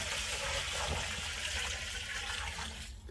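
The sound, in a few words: spring water filling a brandy mash barrel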